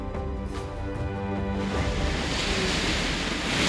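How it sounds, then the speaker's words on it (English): Waves of the Cantabrian Sea breaking on the Asturias coast in northern Spain, a steady broad wash of surf that swells louder partway through, with some wind noise on the microphone and no voices. "The waves of the Cantabrian Sea are moderate, making it ideal for relaxed swimming and water sports like surfing"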